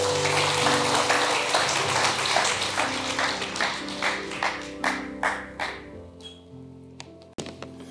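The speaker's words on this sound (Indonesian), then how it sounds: "Kita boleh beri tepuk tangan sekali lagi buat kesaksian yang luar biasa." Congregation applauds during a Sunday church service, dense clapping over sustained music that thins into several separate claps before stopping.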